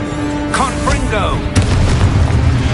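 A Confringo fire spell blasts in Hogwarts Legacy, a loud booming explosion that bursts out over a spoken incantation, with combat noise continuing behind it.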